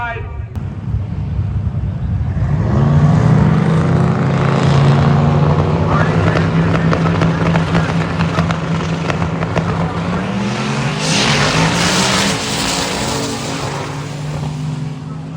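Drag racing pass with a Nash Rambler and a 2001 Blazer running side by side toward the eighth mile, a loud continuous high-revving engine drone rising in pitch throughout, with commentary voice over it.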